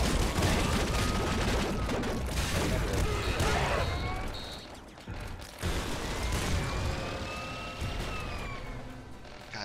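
Plasma gun fire in the top-down shooter Nuclear Throne, a dense burst of crackling energy blasts and clattering impacts over busy game effects, with a voice talking over it.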